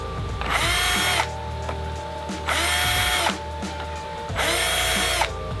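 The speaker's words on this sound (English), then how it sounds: "I just pre-drill 3 holes" A power drill whirs loudly in three separate bursts of about a second each, pre-drilling holes into steel, with short quiet pauses between them.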